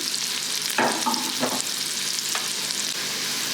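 Wild ramps sautéing in a pan over medium-low heat: a steady, close sizzle with a few short scrapes of stirring and no talk.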